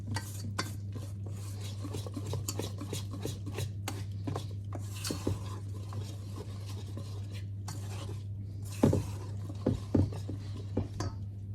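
A spoon stirs börek batter in a bowl, making repeated scraping and clinking strokes in an uneven rhythm against a steady low hum, close and moderately loud, with a few sharper knocks near the end.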